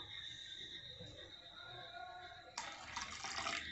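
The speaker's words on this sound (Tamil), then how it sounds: "இப்போ நம்ம வந்து கொஞ்சமாக மறுபடியும் தண்ணி சேர்த்துப்போம்." Water poured into thickening rava tomato dosa batter in a home kitchen, a steady, close, trickling splash that swells louder and brighter partway through.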